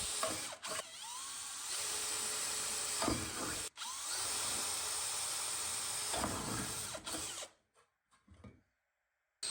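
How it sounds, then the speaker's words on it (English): Holes drilled in a lamp housing with a power drill: loud, sustained whining bursts with short pauses between them, close by, then ending in near silence. "I'm also putting a hole in every corner so it's easier to cut with the jigsaw."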